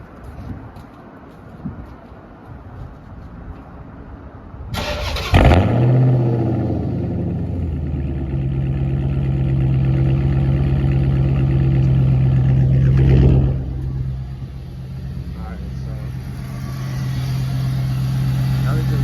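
A Dodge SRT8 engine cranks on a cold start and catches with a loud surge, then settles into a steady fast idle; someone talks briefly before it starts.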